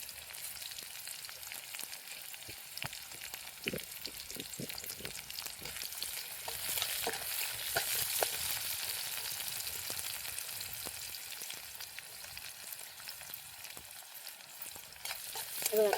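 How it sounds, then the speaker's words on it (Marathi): Chopped onion and curry leaves sauté in hot oil in a pan for a Maharashtrian brinjal dish, giving a steady soft sizzle with occasional stirring scrapes, close and unbroken by speech. "तर यामध्ये आपण घालूया कढीपत्ता, बारीक चिरलेला कांदा. आपण थोडंसं आपण आहे ना परतून घेऊया."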